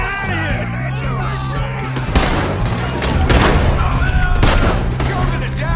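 Gunfire in Red Dead Redemption 2 during a getaway, with repeated loud shots and booms layered over music and a voice. The firing grows denser and sharper in the second half.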